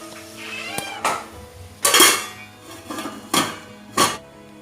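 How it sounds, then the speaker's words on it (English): A lid is set on a pan of tomatoes cooking on the stove, giving several loud close metallic clanks and clatters spaced over a few seconds. "So I'll add the tomatoes. Let the tomatoes get cooked. I am using the lid."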